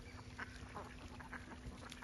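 Ducks quacking on a Kerala duck farm with white Vigova meat ducks alongside Chara-Chemballi and Kuttanad breeds, a steady flock chorus of overlapping quacks close by against constant background noise.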